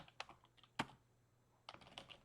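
Keys on a computer keyboard are typed softly at close range while an IP address is entered into a host file, giving scattered single clicks followed by a quick burst of keystrokes, with no voices.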